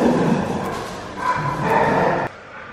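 Dogs at play in an emptied apartment, giving short woofs, yips and muffled thumps close by, with no talking.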